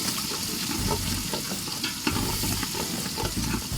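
Food frying in a pot is stirred during a club's anniversary celebration, a constant loud sizzle broken by repeated scraping strokes of the spoon, close up with no talk.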